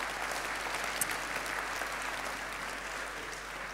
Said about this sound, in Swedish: En applåd, Skander.